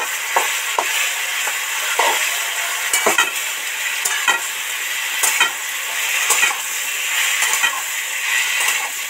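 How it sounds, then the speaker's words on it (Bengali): A metal spatula stirs and scrapes boiled tomato into a potato mixture in a frying pan, with continuous sizzling and repeated sharp scraping strokes close by. "এবার এই সিদ্ধ করা টমেটোটা এর মধ্যে দিয়ে দেব, দিয়ে ভালো করে খুন্তি দিয়ে একদম মিশ্রণ করে দেবো"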